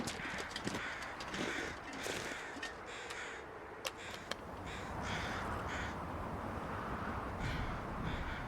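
Crows cawing in The Long Dark survival game, a series of harsh, fairly close caws repeating irregularly over a constant windy outdoor hiss.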